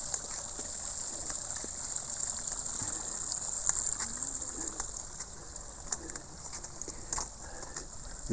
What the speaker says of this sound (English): And again, some more waterfalls.